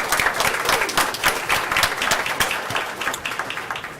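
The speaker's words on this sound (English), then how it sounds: "So let's give her a round of applause." Audience at a school board meeting applauding a county teacher assistant of the year, a busy patter of many hands clapping steadily throughout at moderate volume, without speech.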